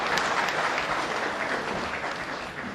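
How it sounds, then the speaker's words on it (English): A workshop audience breaks into a steady, even round of applause for a speaker, many hands clapping together in a continuous wash with no voices over it. "let's give him another round of applause"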